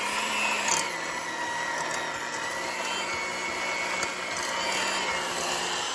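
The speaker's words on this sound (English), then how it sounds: "this mixer is pretty aggro, but I mixed it on high" An electric mixer beating lemon sugar cookie dough on high speed, a steady, loud whirring motor drone that runs continuously without a break.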